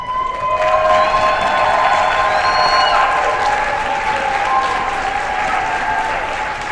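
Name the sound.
applause for award recipients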